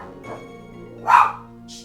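A dog barks once, close and fairly loud, with a few softer yips and a fainter bark before and after, set against a quiet room.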